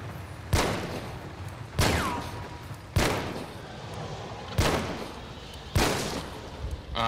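Five spaced gunshots from Hunt: Showdown, FMJ rounds fired through a wall at a foe in a small closet, each a loud sharp crack with a decaying tail, about one every second or so.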